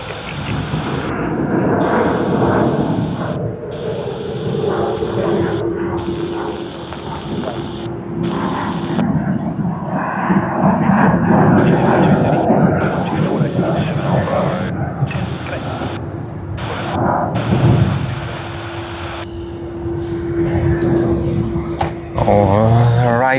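An airliner taking off at Sydney Airport, a broad steady engine roar rising and holding for a long stretch in the distance, with a person talking over it and intermittent radio chatter.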